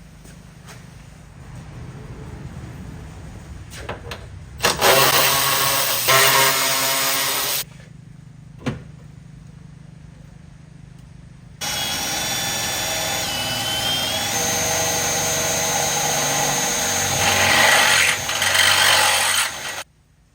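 A power drill whirs loudly in two bursts, a few seconds long and then a longer sustained run, with quieter gaps and bumps of handling noise between them.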